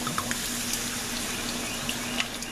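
Madeira wine poured steadily into a pan while cooking duxelles, a continuous close splashing and trickling stream with no talk.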